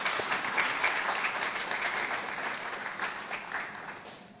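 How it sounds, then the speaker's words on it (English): An audience at an annual-day keynote lecture gives a steady round of applause, a dense wash of hand claps that slowly tapers off. "Let's clap."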